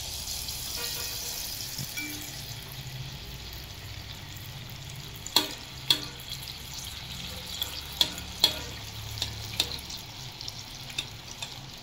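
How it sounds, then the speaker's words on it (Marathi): Anarsa, a rice sweet, frying in oil with a low, steady sizzle and bubbling, broken by several sharp clicks of a utensil against the pan. "असंच आपण आता दुसरं पण बघा तळून घेऊया."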